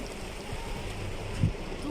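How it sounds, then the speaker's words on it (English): Heavy rain pouring onto flooded streets in Kuwait, a steady wash of falling water and runoff heard close by, with a brief low thump partway through and no voices. "too much rain."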